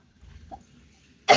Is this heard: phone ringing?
no